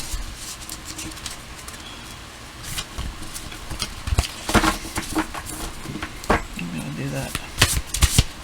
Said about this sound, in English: I'm going to shuffle 3 more times and draw from the top.